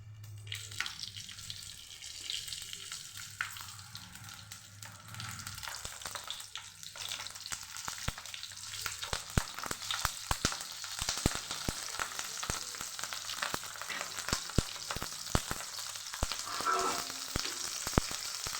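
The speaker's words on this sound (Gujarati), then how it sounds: "રાઈને સરસ ફૂટવા દઈશું" Steady sizzling of mustard seeds and chillies frying in hot oil, with scattered sharp pops and crackles throughout, close by and without talk.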